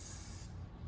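WD-40 penetrating oil sprays onto a dirtbike wheel bearing in one short, close, steady aerosol hiss that cuts off abruptly, leaving a quiet low background.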